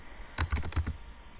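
A computer keyboard is typed on while writing JavaScript code, giving a quick cluster of four or five close, crisp keystrokes in under a second.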